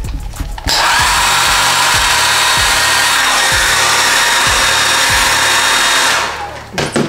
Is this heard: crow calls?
no